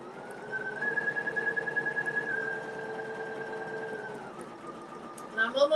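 Embroidery sewing machine stitching a black-thread butterfly design, a steady whirring hum with a rapid rhythmic pulse that runs for about four seconds, then slows and stops with a few clicks at the end.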